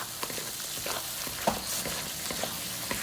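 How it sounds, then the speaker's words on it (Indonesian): Spice paste for rawon frying in oil as it is stirred continuously, a constant close hiss and crackle with frequent light scrapes and taps of the spoon against the pan, no talking. "Jangan lupa untuk terus mengaduk supaya tidak kering di bawah."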